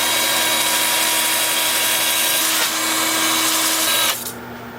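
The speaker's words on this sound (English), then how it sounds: "using my 2-inch sanding discs, I'm going to start with 80 grit and work up through 400 at least." Sanding discs, 2-inch, work a natural-edge maple bowl spinning on a wood lathe, giving a loud, steady whirring hiss that holds throughout, with a fan blowing nearby, then abruptly drops to a softer hum near the end.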